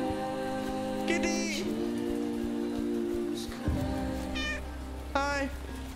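A cat in a horror farming video game meows several times, short rising-and-falling cries, over a steady bed of rain falling on a surface, with a low hum dropping away midway.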